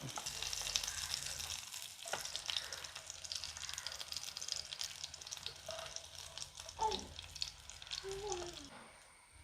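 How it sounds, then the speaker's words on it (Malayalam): Green chillies and dried red chillies fry in oil for an ivy gourd fry, giving a low, continuous sizzle with scattered small pops and clinks throughout. "ഇതാ നമ്മുടെ പച്ചമുളകും ആയിട്ടുണ്ട് വറ്റൽമുളകും മൂത്ത് വന്നിട്ടുണ്ട്"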